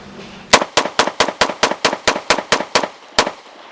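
Walther PDP Pro pistol firing a rapid string of about eleven sharp, loud gunshots at an even pace, then one last shot after a short pause, with no talking.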